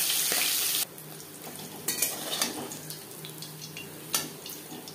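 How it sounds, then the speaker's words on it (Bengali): Small tangra fish frying in hot oil in a pan for a fish curry, a steady close sizzle with occasional stirring and spatula scrapes, loud at first and then settling into a lower, even crackle. "একটা সাইড ভাজা হয়ে গেলে অপর সাইডটা উল্টে দেব।"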